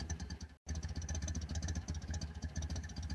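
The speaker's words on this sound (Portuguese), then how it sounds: "se assustavam com o ronco do motor" A steady, rumbling engine runs continuously with a low throbbing drone, broken by a very brief dropout near the start.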